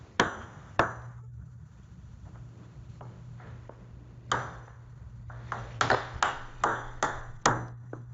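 AI-generated audio imitating ping pong balls bouncing: a string of bright, hard taps at uneven intervals, bunching into quicker bursts toward the end, over a steady low hum.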